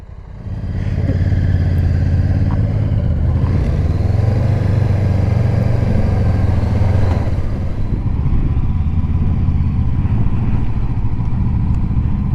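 A Honda CB500X motorcycle idles and pulls away slowly while turning around on a road, its loud, steady engine rumble continuous and close throughout with slight rises in revs.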